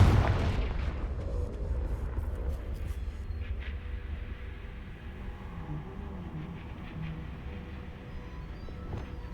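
A Confringo spell blast in Hogwarts Legacy sets off a loud, close explosive boom at the start, then a long, rumbling, low roar that slowly fades. No voices are heard.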